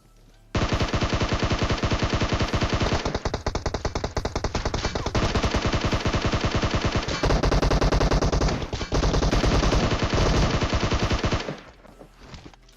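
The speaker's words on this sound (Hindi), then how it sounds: "खैर जैसे तैसे करके एक दो गोली चिपकाता हूँ मैं, और बंदे ठिल जाते हैं।" Sustained automatic gunfire from the PUBG Mobile game rattles in rapid, dense bursts, loud and close, with brief breaks between long volleys before it stops near the end.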